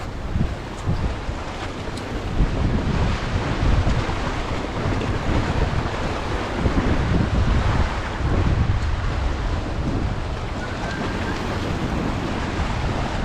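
Ocean waves wash and roll continuously at a Florida beach, mixed with steady wind buffeting the microphone, with no voices.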